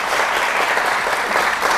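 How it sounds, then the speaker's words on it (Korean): Audience applause at a book talk on Swiss cultural travel, hosted at the Swiss Embassy in Seoul: a steady, dense wash of indoor clapping that holds evenly for the whole stretch without a break. "네, 다시 한번 두 분께 좀 박수를"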